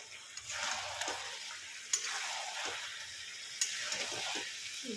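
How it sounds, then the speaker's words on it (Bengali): Boal fish sizzles and fries steadily in a pan over raised heat while cooking down, with a couple of sharp ticks from stirring. "এখানে আমি আঁচটা একটু বাড়িয়ে দিয়ে একটু কষিয়ে নেব"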